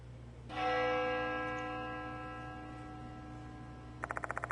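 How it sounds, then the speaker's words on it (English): A bell in the video game Spirit Hunter: Death Mark II rings once with a bright, ringing strike, then fades slowly over a low hum before a rapid ticking begins at the end. "The sound of a bell echoes in my ears."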